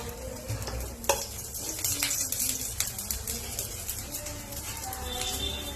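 A dosa brushed with ghee cooks on a pan over a low flame, giving a soft continuous sizzle with a few light clinks of a utensil scattered through.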